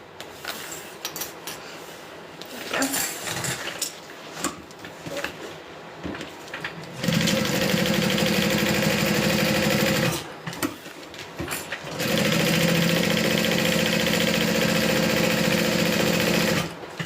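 A sewing machine bastes the slip pocket onto a bag, running in two sustained loud stitching bursts with a steady mechanical whir, separated by handling clicks and quieter rustling of fabric and clips nearby.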